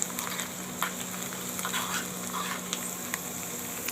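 Hot oil tempering with red chillies and coriander for a semolina and potato snack sizzles and crackles steadily at close range, with faint pops scattered throughout.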